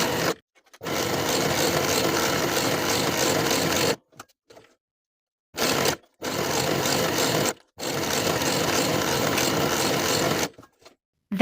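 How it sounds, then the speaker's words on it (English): A home sewing machine runs a stretch stitch along leggings waistband side seams, loud steady whirring in long bursts of a few seconds each, separated by short silent pauses. "Sew each of those side seams with a 1/4 inch seam allowance and your stretch stitch."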